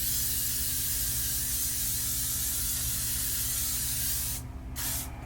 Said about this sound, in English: let's go ahead and mist my face with the L'Oreal setting spray